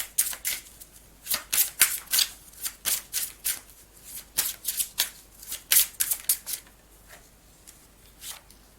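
A deck of cards is shuffled repeatedly during a tarot-style card reading, giving quick crisp riffles and slaps in an uneven rhythm, close and fairly soft with no talking.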